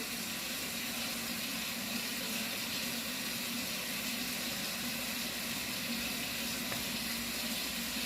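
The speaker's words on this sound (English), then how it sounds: "If you can turn off the water." A kitchen tap runs in a steady, fairly quiet stream as boneless chicken breasts are prepared, with an even, unbroken water hiss throughout.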